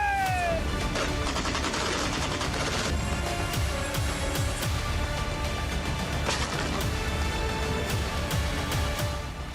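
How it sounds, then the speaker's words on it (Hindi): Indian Army Eastern Command artillery guns fire near the LAC, repeated sharp booming reports cutting through a dense, continuous roar that stays loud throughout. "और सेना की पूर्वी कमान के ब्रह्मास्त्र गनर्स की गर्जना सुनिए।"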